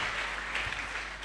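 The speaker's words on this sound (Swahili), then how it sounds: "pigia Yesu makofi na vigelegele" A church congregation claps together in praise of Jesus, making steady, dense applause throughout; ululation cannot be picked out.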